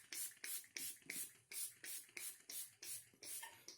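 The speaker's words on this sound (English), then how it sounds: "spray your whole hair" Carol's Daughter black vanilla leave-in hair conditioner sprayed onto dry hair from a pump bottle: about eight quick, evenly spaced, hissing squirts close to the microphone, with no talking.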